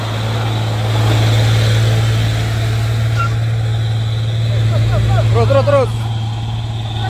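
A truck engine, from an overturned truck at an accident scene, drones steadily at low pitch while being revved without responding to the throttle; voices talk over it, growing more animated toward the end.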